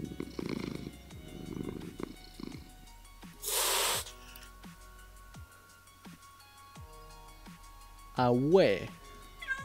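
A creature in the survival game Neolithic lets out a short, harsh hiss like an angry cat, one loud burst midway, amid soft game ambience, scattered clicks and someone talking.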